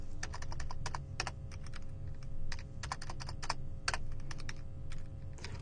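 Bursts of crisp keystrokes on a computer keyboard come in irregular clusters with short pauses, close and fairly quiet against a faint background hum.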